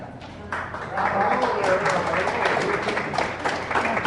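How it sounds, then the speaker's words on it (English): A small gathering of listeners claps in a soft, scattered burst that swells after a brief quiet opening and continues steadily, with voices talking over it throughout. "Clap before he talks."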